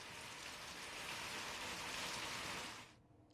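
Steady, dense rain pours down in an even wash of hiss during a spell of continuous heavy rainfall in Uttarakhand, holding constant and then cutting off abruptly near the end.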